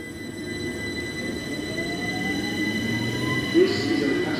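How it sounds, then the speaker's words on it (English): A London Underground District line train at Upminster station gives a steady low rumble with a faint rising whine, with a voice audible underneath. "This train is formed of 8 coaches."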